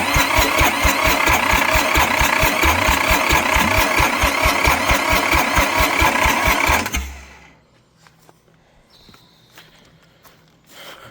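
An International 284 diesel tractor engine cranks with a rapid, even chugging for several seconds, then cuts off abruptly, leaving near silence with faint clicks and a brief noise at the end.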